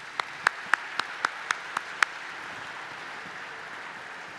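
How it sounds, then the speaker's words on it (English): Eight evenly spaced claps, sharp and fairly faint, rise from a room at an evening honors event before the space falls quiet; no speech. "Let's give them all a round of applause"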